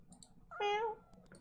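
A single short meow, voiced by a famous actor for a cat in a video game, sounds close and clear over a faint background.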